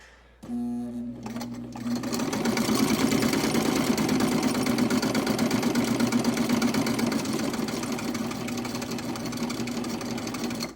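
A Singer VS-2 sewing machine, run by pressing the foot pedal by hand, stitches steadily for about ten seconds with a loud, continuous motor whir and rapid needle clatter. It starts abruptly after a short quiet moment.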